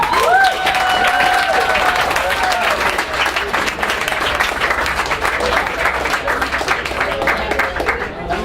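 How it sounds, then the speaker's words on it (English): Audience applause at a gala after a competition final, dense steady clapping with some cheering from a large crowd, sustained for several seconds, with a tonal whistle-like sound at the start and voices mixed in. "So you really must give yourself a clap"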